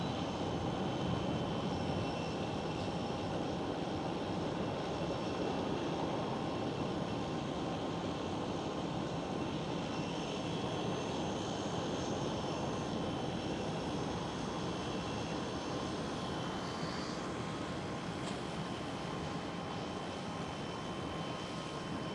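A Royal Air Maroc Airbus A320neo jet airliner in a nearly all-black OneWorld livery at Amsterdam Schiphol, its engines giving a steady, broad roar that holds at an even level throughout, with no voices over it.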